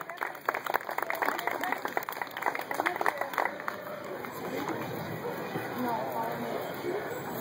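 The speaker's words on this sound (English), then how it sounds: "Let's give her a big round of applause as she comes on the stage." Applause for a contestant coming on stage at a horseradish pageant, sharp scattered claps at first that settle into a softer, sustained crowd murmur and clapping, with voices mixed in.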